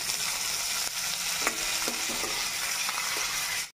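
Curry leaves dropped into a pan of oil with fried chana dal and a chili give a loud, continuous sizzle, broken by short scraping stirs throughout.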